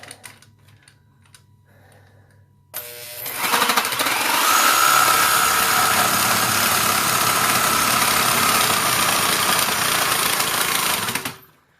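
A Milwaukee Orbital Super Sawzall reciprocating saw cuts through a 4x8 Douglas fir beam, a loud, continuous buzzing rasp that starts abruptly after a quiet lead-in and runs steadily for about nine seconds before stopping.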